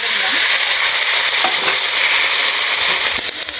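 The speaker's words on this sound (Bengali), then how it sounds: "তেলের মধ্যে সবজিগুলো ছেড়ে দিলাম।" Mixed vegetables hit hot oil in a simple village kitchen and fry with a loud, dense, continuous sizzle, while a utensil clinks and stirs now and then.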